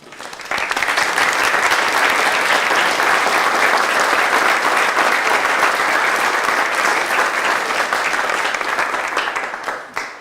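Audience applause welcoming a speaker at a photography exhibition opening in Concord, a sustained loud wash of many hands clapping for about ten seconds before trailing off.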